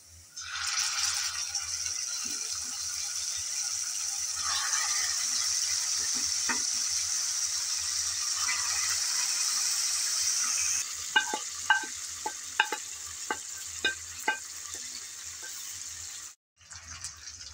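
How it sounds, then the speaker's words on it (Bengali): Taro flowers dropped into hot oil in a pan where bay leaves were browned, giving a loud, steady sizzle and hiss for most of the time, then softer frying with a series of light clinks and scrapes before a brief pause. "কচুর ফুলগুলো সব ঢেলে দিলাম। ভালোভাবে এখন তেলের মধ্যে ভেজে নিতে হবে।"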